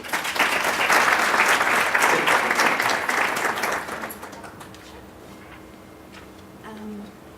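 An audience at a community workshop applauds to welcome a speaker, steady dense clapping for about four seconds that then fades into room quiet with a faint voice near the end.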